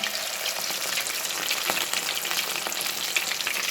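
Fish sizzles and spits steadily in hot coconut oil, a dense, even crackle of frying that holds close and constant with small pops, and no one speaks.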